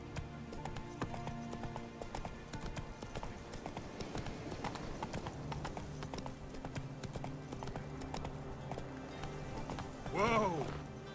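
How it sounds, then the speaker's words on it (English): Hooves clip-clop steadily at a gallop in The Witcher 3 on PC, a rhythmic thudding beat under game music and ambience, with a brief horse whinny near the end and some speech. "Come on, Roach"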